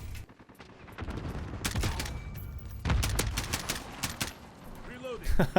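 M4 rifle gunfire in Call of Duty Modern Warfare, fitted with a red dot or scope and fired in single shots, cracking out in loud bursts with irregular gaps and busy game sounds underneath.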